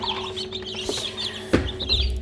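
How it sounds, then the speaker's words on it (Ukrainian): A brooding hen and newly hatched chicks in a nest, with soft close clucks, a steady run of thin high cheeping from the chicks and a brief rustling knock partway through. "Вивелися, скоріш за все, половину пташенят."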